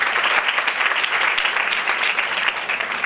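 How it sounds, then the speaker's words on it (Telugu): A church congregation at a revival meeting claps in unison, producing a loud, dense, continuous wash of hand claps that holds steady from start to finish. "చప్పట్లు కొట్టి ప్రభువును మహిమపరచాలి"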